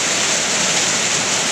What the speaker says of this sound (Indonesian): Hujan sangat kuat.